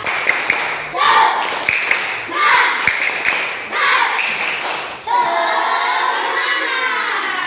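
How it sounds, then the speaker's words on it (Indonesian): A class does the 'tepuk semangat' spirit clapping chant: rhythmic group claps and thumps mixed with children's chanting voices, followed by a sustained burst of cheering and shouting. "Kita akan melakukan tepuk semangat."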